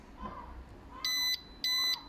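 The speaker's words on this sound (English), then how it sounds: "You're gonna hear 2 beeps." A Ducati Multistrada 950 alarm system gives two short electronic beeps, evenly spaced and fairly close. Faint background noise runs between them.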